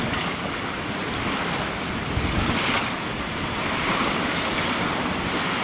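High tide waves surge and splash at Watchet harbour by a passage from the sea into the mill pond, a loud, continuous wash of surf with steady wind buffeting the microphone and no voices.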